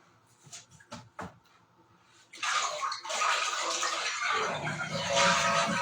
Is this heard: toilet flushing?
yes